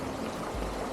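Hirni waterfall near Chaibasa flowing in a steady, continuous broadband rush, fairly loud and close, with no voices over it.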